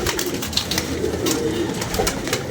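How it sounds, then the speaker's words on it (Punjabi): A captured pigeon coos close by in low, soft, repeated throaty calls over a steady background murmur. "ਇਹ ਕਿਸੇ ਦਾ ਕਬੂਤਰ ਫੜਿਆ ਜੀ,"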